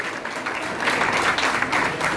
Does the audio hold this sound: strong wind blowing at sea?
no